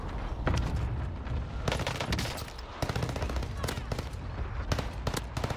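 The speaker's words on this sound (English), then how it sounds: "I put the artillery on it then" An artillery strike on Rebirth Island in Call of Duty Warzone, a run of sharp blasts and crackling bursts landing at irregular intervals, fairly loud and close, with a rumbling wash between impacts.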